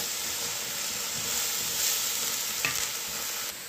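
Onions frying with black pepper in a pan make a steady, close sizzle and hiss, with a brief stirring clatter near the end and no talk.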